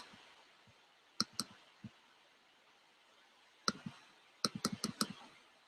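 Computer mouse clicks, sharp and close, arriving singly and in quick clusters of two to five with quiet gaps between, over a faint background hiss and no talking.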